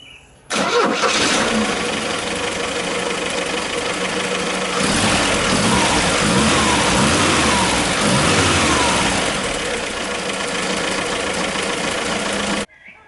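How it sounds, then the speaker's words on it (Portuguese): A 1978 Chevrolet Opala engine cranks, catches and starts, then revs loudly up close, the motor roaring and holding high before cutting off abruptly at the end. "Prontinho, vamos dar uma partida agora."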